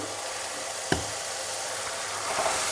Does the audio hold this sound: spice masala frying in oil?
yes